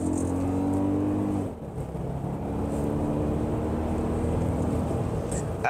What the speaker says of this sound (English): I will put it to the floor, give you guys a real good sound on this engine